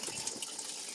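Tap water gushing steadily, a continuous broadband hiss and splash with slight surges, close and fairly loud, no voices.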